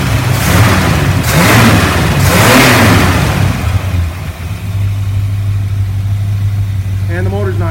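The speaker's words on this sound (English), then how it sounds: "And the motor's not cold. I had it running before. I just finished hooking stuff up, fired it up." A 1966 Plymouth V8 engine idles steadily after being fired up warm, with a loud rumbling revving passage early on before settling into an even idle; someone talks over it near the start.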